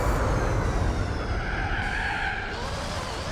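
A high-revving race car engine in Gran Turismo 4, running on cold sports tyres, roaring loudly with a tyre skid underneath and the engine note rising and falling through the run.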